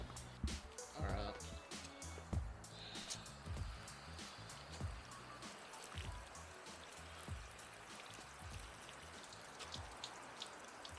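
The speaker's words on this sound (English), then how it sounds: "Simulate a heavy, heavy rain." Water sprayed onto a Jeep Wrangler JK top to simulate heavy rain, a steady patter and splash of droplets drumming on the roof, fairly faint and continuous with irregular bursts.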